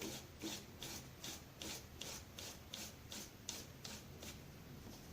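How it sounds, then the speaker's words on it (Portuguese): Sandpaper rubbing back and forth on an MDF board, a quick regular rasping stroke repeated about twice a second, close and fairly quiet with no talk. "Agora, vou lixar aqui também, para cortar aqui essa parte."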